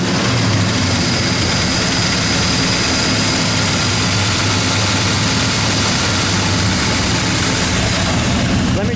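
A 1969 Dodge Dart Swinger with a 340 V8 rumbles at a loud steady idle, with dense low engine roar filling the whole stretch without a break.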